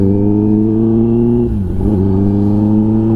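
A Kawasaki ZX-10R motorcycle with an SC Project titanium exhaust drones loud and close on an evening ride, holding a strong steady engine tone with a brief dip in revs before climbing back.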